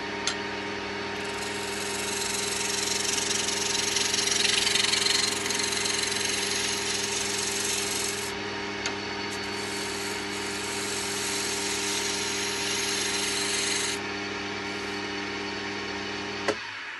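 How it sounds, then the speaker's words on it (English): A wood lathe spins a squared blank, a steady motor hum and whine with a rougher juddering overlay as the corners strike, moderately loud and continuous with no talk. "As it turns, you will hear the kind of shuddering, juddering noise as it hits each one of those corners."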